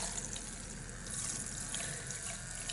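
A Primark electric brush cleaner churns a makeup brush in soapy water, giving a continuous, fairly quiet sloshing and watery rush with faint bubbly detail, steady throughout and without speech.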